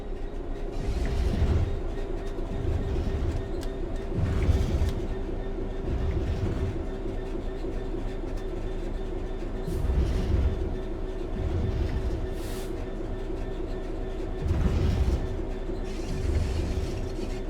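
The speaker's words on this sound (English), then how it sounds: "The train will then coast on level ground, and the train will only slow down very gradually." A train in Train Sim World 3 coasts on level track, its wheels thumping rhythmically over rail joints in regular clusters over a low steady rumble and faint hum, moderately loud and without voices.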